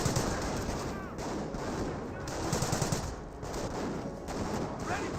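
MG42 machine gun fire in the Company of Heroes video game, a continuous rattling stream of rapid shots mixed with other battlefield gunfire, steady and moderately loud over several seconds.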